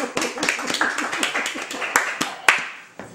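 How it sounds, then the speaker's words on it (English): Studio audience clapping on a comedy talk show, a loose stream of hand claps with sharper individual claps standing out, fairly close and moderately loud, with voices talking underneath. "Let's clap for the studio audience."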